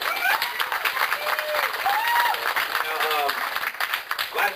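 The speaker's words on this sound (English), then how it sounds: "How about a round of applause for the returning champion?" An audience applauds a returning champion at a swimsuit competition event, dense clapping and crowd noise filling the room while voices talk and cheer over it.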